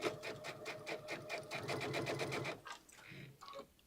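A sewing machine stitches a quarter-inch seam with a fast, even mechanical chatter, close and moderately quiet, then stops near the end for a few soft handling noises.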